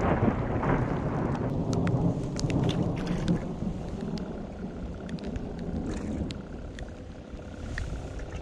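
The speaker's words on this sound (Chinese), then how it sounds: "越下雨越大啦" Heavy rain pours steadily at Sun Moon Lake during a thunderstorm, a dense hiss of drops with sharp spattering impacts nearby and rumbling underneath, with no talk.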